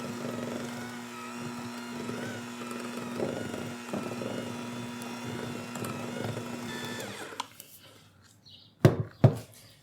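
Electric hand mixer beaters whirring through thick brownie batter, a steady motor drone for several seconds before it cuts off, followed by a few sharp knocks and clatters nearby.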